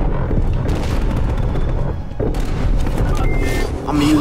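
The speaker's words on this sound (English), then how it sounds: "I'm gonna use this cruise missile now." Cruise missile strike in the video game Call of Duty Cold War, a loud, dense rumbling blast with sustained low roar and crackling debris, close and overpowering throughout.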